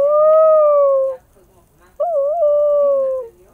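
A dog in a Roblox video game lets out two long, loud, tonal howls close up, the second wavering like a whimper, separated by a brief near-silent pause.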